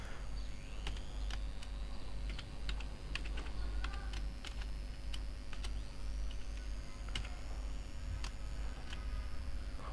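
Fingers tap a computer keyboard while entering a date formula in a spreadsheet, giving quick, irregular clicks over a steady low hum and faint electronic whine.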